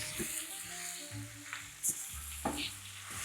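Baby spinach sautéing in a pan for a steakhouse-style dinner, a steady soft sizzle with a few sharp clinks and stirring scrapes, close and alone, and low hum of a kitchen under it.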